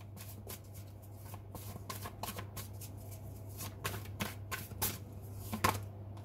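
Tarot cards being shuffled close up, a quick series of riffling, flicking bursts of varying intensity over a steady low electrical hum.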